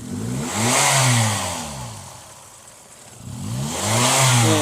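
A 2008 Toyota Yaris 1.5 S Limited engine revs up twice, its pitch rising and falling with each push, dipping to a quieter idle in between.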